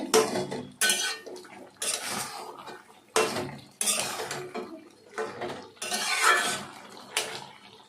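A metal lid and utensils clink and clatter against a cooking pot of vegetarian soybean korma, with several separate sharp metallic knocks and scrapes spaced through the clip and no talking.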